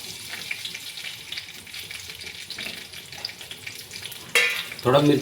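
Green chillies fry in hot oil in a kadhai, giving a continuous soft sizzle and crackle. Near the end, louder bursts of spattering break through, up close.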